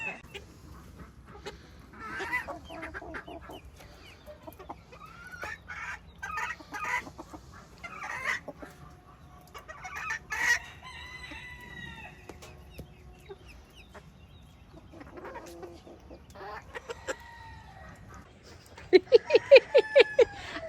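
Chickens cluck and a rooster crows on a farm, with scattered clucks and squawks spread throughout, a few louder crows, and a rapid burst of sharp calls near the end, all moderately close.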